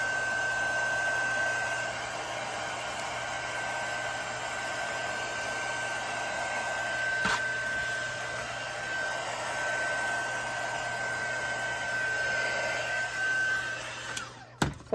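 A heat tool blows a steady, moderately loud whirring stream of hot air over epoxy and alcohol ink on a stainless tumbler. It runs continuously for about fourteen seconds, then ends with a few handling clicks.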